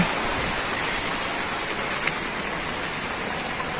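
Heavy rain pours down outdoors, a dense, unbroken hiss of water that stays loud and steady throughout with no voices.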